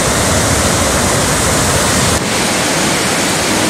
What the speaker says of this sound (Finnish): No niin, Pyhäjoen kevään kuohu.